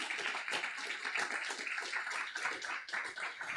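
Faint applause from an audience at a YouTube creators' screening evening, many hands clapping in a quick continuous patter for a guest, with no voices on top.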